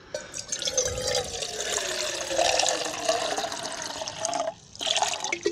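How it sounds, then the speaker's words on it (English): Water pours steadily into a clean stainless steel pot, a continuous splashing fill measuring about 500 ml, close and fairly loud with a brief pause near the end before it resumes. "I'm going to put 500 mils of water in my pot."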